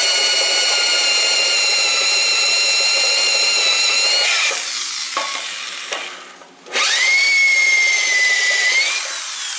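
Battery-operated drill with a hand chuck whines steadily and loudly up close, dips and stops briefly, then spins up again, working white pine beside a Woodmizer LT15 sawmill.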